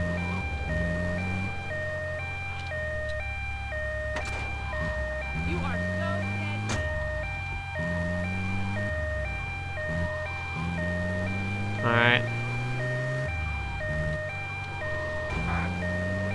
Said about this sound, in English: get out the way because of the sirens and all